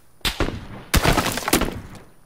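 Sniper gunfire in PUBG that kills the player: three sharp, loud cracks spaced roughly half a second apart, each trailing off quickly, with no voices.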